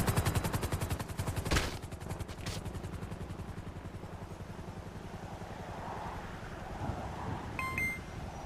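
Rapid machine-gun bursts in a video game roleplay server, loud and close at the start, then fading into a rotor-like drone with faint scattered sounds.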